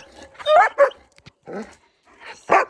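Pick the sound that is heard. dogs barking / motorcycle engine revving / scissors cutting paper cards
dogs barking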